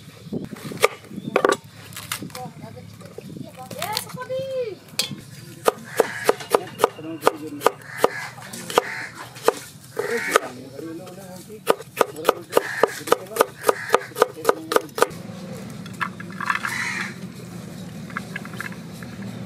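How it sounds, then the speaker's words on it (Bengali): Capsicum being chopped with a knife on a board, with sharp repeated close knocks that come in irregular bursts and then speed up into fast steady strokes, alongside some rustling handling sounds. "ক্যাপসি কেটে নেব।"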